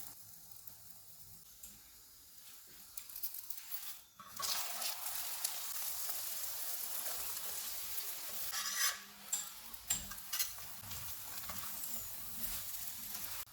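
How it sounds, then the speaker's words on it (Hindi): A paratha fries with ghee on a hot tawa over low-to-medium heat, a steady sizzle and hiss that swells louder midway, with faint stirring and pan scrapes and no talking. "अब हम घी लगाएंगे और दोनों साइडों से पका लेंगे।"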